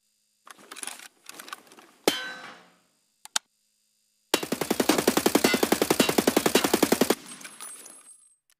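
An AK-101 rifle in Escape from Tarkov rattles off one long, loud, rapid automatic burst of about three seconds, after a few scattered metallic clanks and clicks.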